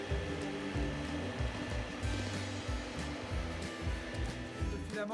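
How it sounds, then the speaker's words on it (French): A 3D printer runs while printing a yellow Pikachu figure, stepper motors whirring in shifting tonal patterns over a fan hiss, close and continuous with no talk. "quand une imprimante 3D est en train de tourner"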